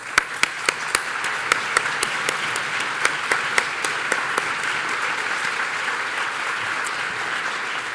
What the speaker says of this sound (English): Would you all please stand for a moment of applause?